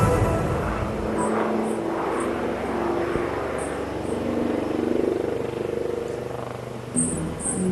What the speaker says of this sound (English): Keep looking as the helicopter turns to carry out a steep turn again.